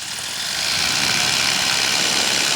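Model aircraft engine running richened at a steady high-pitched buzz, loud and constant after a short swell, no talk.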